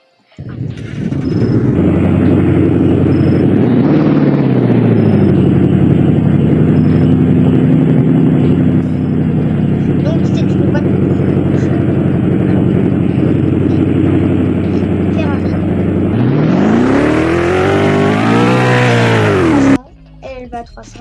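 A car in the Valmoria video game accelerates and cruises with a loud, sustained engine drone that rises and holds steady, then climbs into a high revving surge before cutting off. Someone talks over it.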